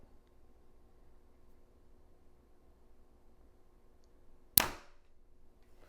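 A single sharp release from a 2020 Hoyt Torrex compound bow as an arrow is shot, one crisp snap with a brief ringing decay, after several seconds of quiet outdoor background.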